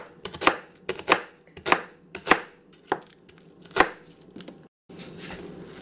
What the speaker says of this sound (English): Chop your onions.